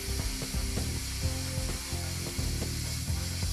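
Powermax45 XP plasma torch cutting a workpiece, a close, steady crackling, sizzling hiss with irregular ticking pulses and a low buzzing hum underneath.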